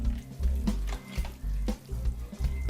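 Asparagus risotto with grated Parmesan being stirred in a pot, giving close, wet, squelching strokes in a steady repeating rhythm with a soft sizzle underneath.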